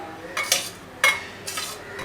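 Cooked ragi flour being scraped from a pan onto a plate, three or four bright metallic scrapes and clinks of a spoon against metal spaced about half a second apart, close and moderately loud over quiet background.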